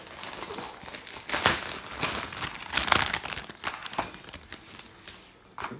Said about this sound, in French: Donc je vais tout de suite ouvrir le paquet